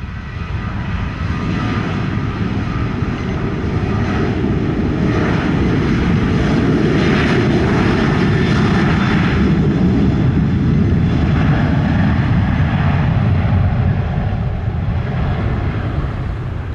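An airplane on the runway at Montego Bay airport, Jamaica, a loud steady engine roar holding strong throughout with a broad rumbling drone and no talk.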